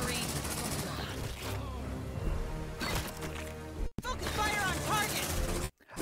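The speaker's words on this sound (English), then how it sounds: "Deploying sentry gun. At least two sentry guns." Automated sentry guns firing in the sci-fi game Aliens: Dark Descent, bursts of rapid shots in clusters broken by brief lulls, heard beneath someone talking.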